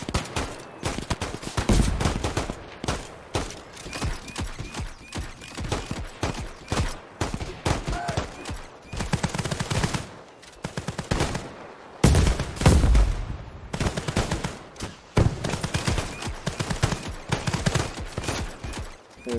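Bursts of gunfire from a Roblox Iron Man simulator hero game, with dense, repeated shots and rapid volleys that run almost without a break and swell loudest near the middle.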